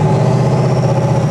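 A Hummer with a big-turbo diesel engine gives a loud, close, steady low rumble with a rough, throbbing character as the throttle is applied.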